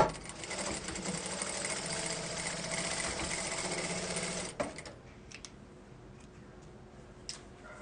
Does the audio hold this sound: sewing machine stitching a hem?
yes